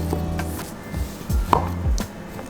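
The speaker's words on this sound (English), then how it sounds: "I have to cut through all the butter" A utensil cuts butter into an apple crisp crumble in a bowl, producing loud, close, irregular chopping thuds and scrapes with no talk.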